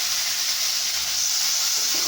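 Boiled vegetables sautéing in a hot pan for broad bean kootu, a steady, loud hiss and sizzle that stays even throughout with no talk.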